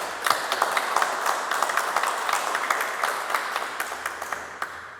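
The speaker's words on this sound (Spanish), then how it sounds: "Aplausos para nuestro expositor," An audience at an evening lecture on sustainable development in the Amazon claps steadily for a few seconds, a moderate room-filling applause that tapers off near the end.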